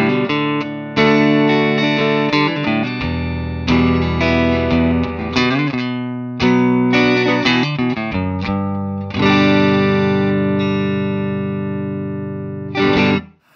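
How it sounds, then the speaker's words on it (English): Electric guitar played through a Marshall-style amp with a very conservative master setting and no reverb, giving a dry, gritty, lightly distorted tone; loud chords and riffs ring out in phrases, alone with no talk, ending with a final strum. "But you cannot crank this amp anywhere near as loud as you would have it with"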